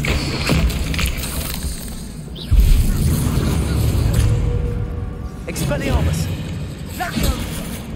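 An Expelliarmus disarming spell cast in the Hogwarts Legacy video game: a sudden thumping burst with swishing sweeps amid ongoing combat noise, with a voice present over much of it.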